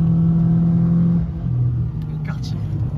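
Renault Clio 2 RS Phase 2, derestricted, its engine heard from inside the car with a steady low hum that shifts and climbs as the revs rise, while a voice talks over it.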